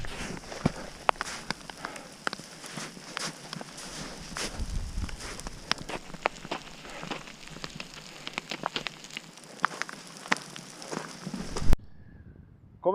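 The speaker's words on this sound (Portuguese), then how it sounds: "Começou a chover" Rain falls on a mountain trail in the Dolomites during a storm, a steady patter with scattered sharp drops and taps close by, ending abruptly near the end.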